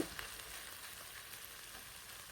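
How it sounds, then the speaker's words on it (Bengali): Okra fries and is stirred in a pan, giving a soft, steady sizzle that stays quiet and even throughout, with no talking. "ভেন্ডিগুলো শুধু দিয়ে একবার ভালো করে নাড়িয়ে মিক্স করে তারপরে একটু এভাবে"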